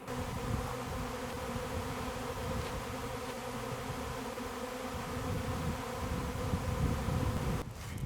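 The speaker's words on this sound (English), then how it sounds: "Okay, the bees seem to be settling down." A dense, steady buzzing of a honeybee swarm, continuous and close, with a slight rise in intensity toward the end.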